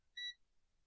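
A multimeter gives a single short, clean continuity beep while probing a pin on a circuit board carrying 3.3 volts. It is faint and stands alone in near silence.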